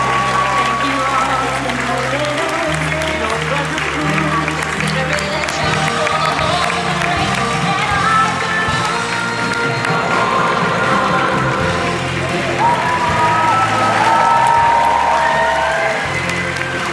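An audience at a TIFF 2018 Midnight Madness screening in a packed festival theatre applauds continuously, with a dense wash of clapping and crowd noise. Voices and tonal sounds carry over the top throughout.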